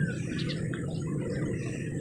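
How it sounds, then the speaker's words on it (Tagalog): Birds chirp in the early morning on a quiet jogging and walking path lined with green trees, their faint, scattered tweets rising over a steady bed of outdoor background noise, with no one talking. "Maririnig mo lang yung huni ng mga ibon."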